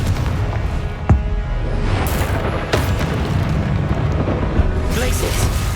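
Confringo fire spell explosions in the Hogwarts Legacy video game, several sharp blasts and bursts over a dense rumbling battle backdrop, with voices calling out among them.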